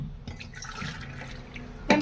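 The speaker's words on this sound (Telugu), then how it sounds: "ఆ గ్లాస్తోనే నేను 3 గ్లాస్ వాటర్ యాడ్ చేసుకుంటున్నాను" Water from a glass is poured into a pressure cooker holding rice and dal for katte pongal, a soft watery splashing with a sharper splash near the end.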